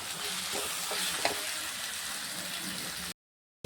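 Onion palya seasoned with chili powder and masala sizzles steadily in a pan while a spatula scrapes and stirs it in a few soft strokes. The sound cuts to silence near the end.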